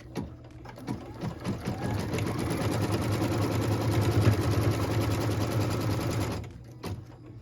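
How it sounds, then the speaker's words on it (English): Running a tack-down line on a Wild Goose Chase quilt piece, a sewing machine whirs evenly for roughly five seconds, framed by soft clicks of handling before and after. "What we're stitching now is the tack down line for piece number 5."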